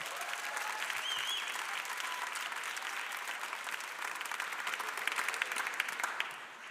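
An audience applauds the boys of a band at the Lindakirkja church Advent festival in 2024, with dense, steady clapping lasting several seconds before tapering off at the end.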